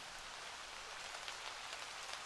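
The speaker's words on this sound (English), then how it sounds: "Oh, we're walking into rain." Rain in a video game falls as a steady, soft hiss of drops on surfaces, even and unbroken, with no voices over it.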